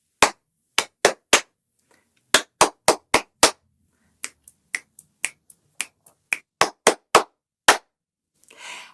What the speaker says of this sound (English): Pat, clap, snap, then clap.